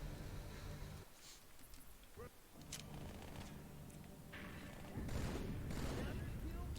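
Frag grenade explosions and gunfire in the Halo 2 video game come as muffled booms and bursts of shots over steady game ambience, with a louder blast near the end and a voice talking over it.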